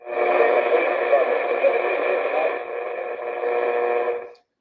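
Medium wave radio static while tuning in station WRCR, a steady hiss with banded noise lasting about four seconds before cutting off abruptly.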